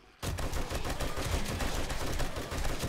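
A gun fires continuously during a horde night in the survival game 7 Days to Die, a dense rapid stream of shots starting abruptly and holding steady at close range with no talk over it.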